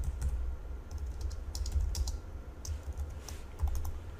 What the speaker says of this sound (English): as I continue typing here